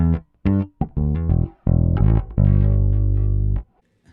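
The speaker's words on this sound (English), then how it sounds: "So here's the sound of the bass just without any effects" A 1975 passive jazz bass guitar is played clean without effects, giving a short run of plucked notes and then two longer sustained notes, close and full, with no talking.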